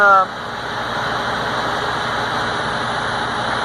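Truck engine idling steadily to rebuild air brake pressure, a low constant rumble after a brief louder burst at the start, with a faint hum throughout and no talk.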